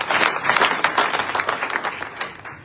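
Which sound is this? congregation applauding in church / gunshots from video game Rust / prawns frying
congregation applauding in church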